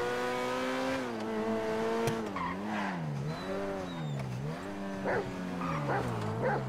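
A dog whining in the GTA V video game, a long series of close, wavering high whimpers rising and falling in pitch, loud and alone, with a few brief clicks between them.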